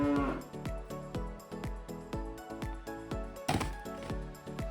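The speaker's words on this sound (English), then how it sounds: "Cow." A cow lets out a long, drawn-out moo over a regular rhythmic knocking, fairly close and heard with no speech.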